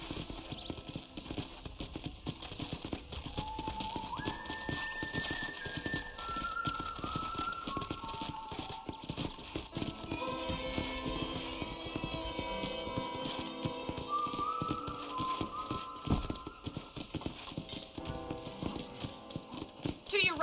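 Steady hoofbeats clip-clop along in Red Dead Redemption with occasional horse snorts and whinnies, while people talk over the rhythmic trotting throughout.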